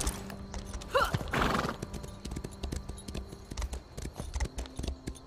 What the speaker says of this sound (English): I now have a horse.